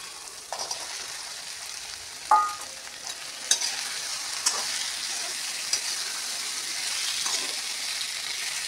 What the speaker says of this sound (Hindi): मसाला अपना भुन लगे, हुण इह च पावांगे आपां आलू